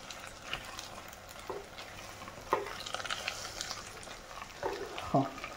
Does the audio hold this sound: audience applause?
no